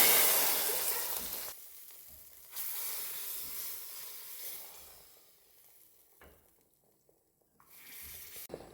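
Hot garlic and spice tempering hits a pot of cooked spinach dal with a loud hissing sizzle that cuts off, flares again briefly, then fades into quieter steaming bubbles.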